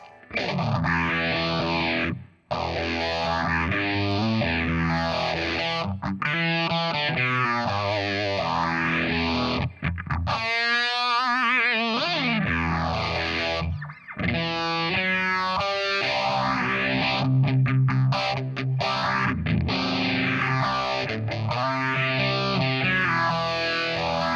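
Heavily overdriven electric guitar plays continuously with sweeping, phaser-like swirls and sustained distorted chords, loud and unbroken.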